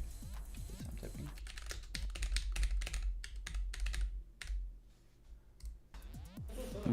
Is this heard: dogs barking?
no